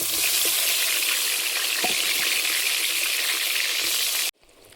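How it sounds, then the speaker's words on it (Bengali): Eggplant pieces frying in hot oil give a loud, continuous sizzle with a few light clicks of stirring, then the sound drops off sharply just before the end. "নিয়ে বেগুনটা ভেজে নেব।"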